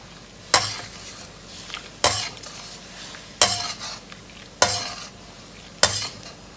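A tamarind sauce simmers in a pan while a utensil stirs it, giving a soft bubbling hiss with five evenly spaced sharp scrapes and clinks against the pan.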